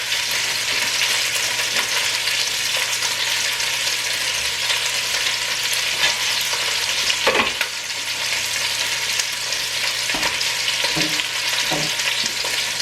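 Chicken braising in a pan over medium heat, giving a steady, loud broadband sizzle with a few brief scraping or clinking touches around the middle and later on, with no one talking.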